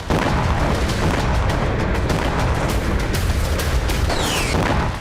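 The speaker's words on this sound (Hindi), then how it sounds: "वेस्ट बैंक के ही तुलकर्म में भी इजरायली सेना ने एक के बाद एक कई धमाके किए।" Several explosions from Israeli army strikes in Tulkarm in the West Bank boom one after another, sharp repeated blasts over a constant loud rumble and rushing background noise.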